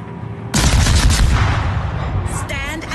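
Naval gunfire in a warship battle game, a sudden heavy blast followed by a rumbling barrage that slowly fades, and some faint warbling effects near the end.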